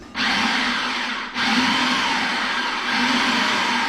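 Food processor whirring butter for a garlic spread, a loud close continuous motor hum with a brief dip in pitch and load partway through, then steady churning.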